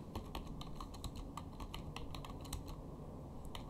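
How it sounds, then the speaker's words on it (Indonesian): Rapid, steady keystrokes on a computer keyboard, close and clear, a continuous run of light clicks over a low background hum with no speech. "cuma ngetik saja, termasuk tiket wisata"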